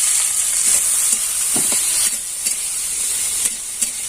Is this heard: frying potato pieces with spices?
yes